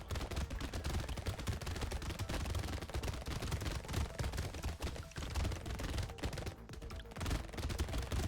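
Rapid, continuous SMG gunfire from the video game Brotato, a dense stream of overlapping shots with crashing hits and game effects. The barrage stays loud through the whole stretch and briefly thins near the end.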